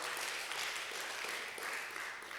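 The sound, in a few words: church congregation applause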